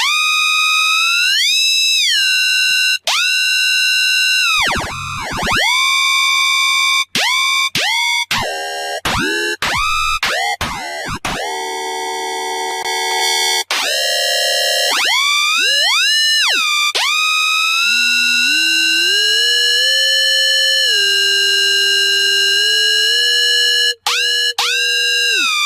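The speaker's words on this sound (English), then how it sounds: "and sustain bass is that you can easily make them sound very alien" Synthesized sustain bass with an alien, sci-fi character, sliding and warbling sustained tones that bend in pitch, with sudden cuts and stuttering gaps, loud and alone throughout.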